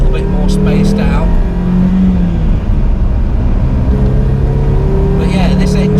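Renault Twingo RenaultSport 133 engine running steadily and loud inside the car, a constant droning hum with slight pitch shifts as it revs.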